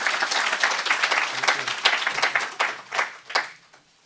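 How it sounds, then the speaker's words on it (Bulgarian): Applause from an audience at a healthcare innovation partnership event greets Dr. Ovidio Popescu, AbbVie regional general manager for Central Europe: dense, steady clapping from a sizeable crowd, tapering off toward the end. "Вашите аплодисменти за доктор Овидио Попеско, регионален генерален менеджер на АБВИ за Централна Европа."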